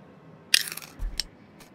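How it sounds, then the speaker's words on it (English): A snack being crunched close to the mouth, with one sharp crackling bite followed by a couple of softer crunches and a low chewing thud, brief and isolated in a quiet room. "Can you hear me crunching?"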